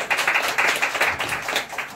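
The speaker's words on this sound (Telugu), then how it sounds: "చప్పట్లు కొడదాం దేవునికి మేము." A church congregation claps along in worship, a dense, steady rhythmic patter of many hands close by, brief and fairly loud with no voices over it.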